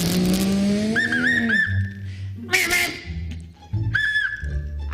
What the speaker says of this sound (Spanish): Ese es el auto.